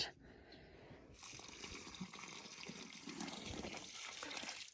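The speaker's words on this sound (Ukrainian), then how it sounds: "Води наливаю багато, тому що от помідори стояли в воді" Water poured generously onto freshly planted rooted tomato side-shoot cuttings in soil, a steady close gushing splash that starts after a brief quiet moment and runs continuously to the end.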